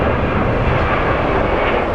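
A large airliner at Sky Harbor International Airport roars loud and close, a dense broadband engine rumble that holds steady without any talk.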